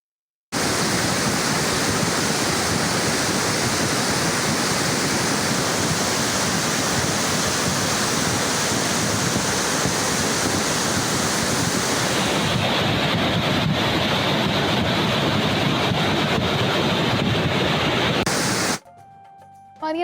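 Glacier-melt floodwater roaring down a swollen mountain stream, a loud continuous rush of turbulent water close by that holds steady for about eighteen seconds before cutting off.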